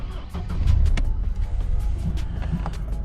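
A Mercedes-Benz W202 C230 with about 205,000 km is started, heard from inside the cabin at night: a low engine rumble swells after a moment, then settles into a steady, smooth hum, with no talk.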